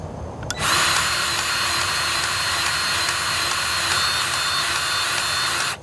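A Milwaukee battery-powered grease gun runs steadily for several seconds, a loud continuous motor whine that starts abruptly and holds an even pitch close to the mic, with no talking.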